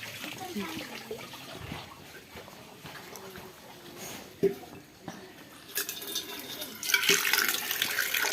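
Water runs from a tap into a vessel, splashing close by, with the flow swelling louder and brighter toward the end, while a person talks over the earlier part.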